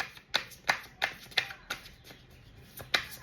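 A deck of playing cards is shuffled in a quiet room, giving a series of crisp riffles and snaps at a steady, irregular rhythm, close and fairly faint.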